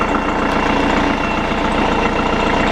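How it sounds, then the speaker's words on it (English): A narrowboat's diesel engine idles steadily close by in cold weather, a continuous low, even throb with a regular pulsing beat and no talk over it. "There's the engine."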